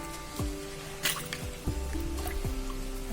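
Water drips and splashes in a few separate trickles as cut green chillies are lifted out of a bowl of water, with soft squishy handling sounds.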